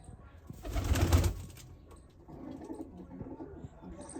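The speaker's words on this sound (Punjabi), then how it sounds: "ਆਪਣੀ ਤਿੰਨੇ ਕਬੂਤਰਾਂ ਬੈਠੀਆਂ ਆ ਚੈੱਕ ਕਰੋ" Pigeons coo softly nearby, a low burst of throaty calls early on followed by quieter murmuring coos.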